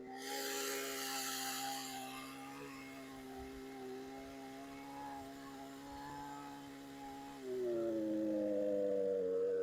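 A Husqvarna chainsaw bites into wood up close, its engine droning steadily under load with a loud revving rise near the end of the cut, no voices heard.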